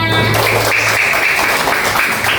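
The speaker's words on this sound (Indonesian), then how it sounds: "Kasih tepuk tangannya." Children in a second-grade primary school maths class applaud a classmate, a dense, steady wash of many small hands clapping at close range for the whole moment, with a few voices mixed in.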